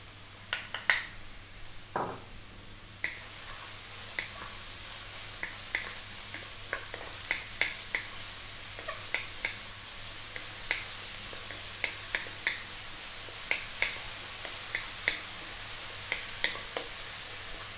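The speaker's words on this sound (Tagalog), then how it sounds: "Drop na natin yung ating garlic. Sasabay na rin po natin yung ating mushroom." Garlic and mushrooms fry in a pan for chicken mushroom rice with a steady hiss, a loud splatter when they drop in, then sharp crackling pops scattered throughout, close and without talk.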